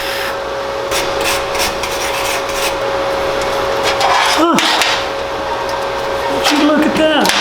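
A gasless flux core welder tacks metal with a steady, close crackling buzz that runs for the whole clip, with a few sharper sputters partway through and near the end.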